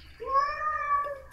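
A cat gives a single clear, drawn-out meow that rises and then fades, followed by a brief sharp noise at the very end.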